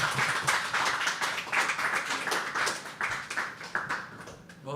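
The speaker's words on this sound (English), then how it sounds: "Can we have a nice round of applause for him?" Audience applause for a poet at a live open mic poetry event, a steady patter of many hands clapping at moderate distance, sustained throughout without talk.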